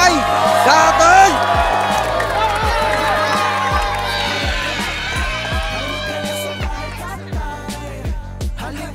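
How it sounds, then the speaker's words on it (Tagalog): Crowd at a Filipino rap battle event in Baseco cheering, whooping and clapping under loud amplified music with a thumping beat. "akin pong hinihingay yung malakas na palakpakan at sigawan ng bahay kapay"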